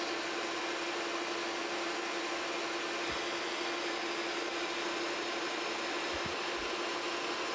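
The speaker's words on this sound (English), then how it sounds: "we got a center drill in here and we are gonna go ahead and" A metal lathe runs while a center drill bores a center hole in a blank for a vise screw, giving a constant mechanical whine and hum with a few faint clicks and no speech.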